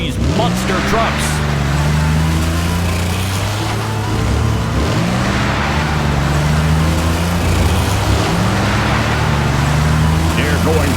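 Cartoon monster trucks race around a track, engines roaring loudly with repeated rising and falling revs and pass-bys under an excited announcer's commentary.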